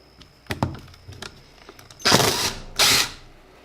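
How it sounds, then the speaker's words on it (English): Two screws being removed from a Yamaha SUV 1200 carburetor: a few light clicks, then two short, loud whirring bursts close by, one after the other. "Now I'm going to remove these 2 screws."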